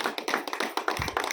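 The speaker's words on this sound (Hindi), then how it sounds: "एक बार जोरदार तालियां" Audience clapping at a business seminar in a hall, a moderate spread of separate hand claps in uneven rhythm with no voices over it.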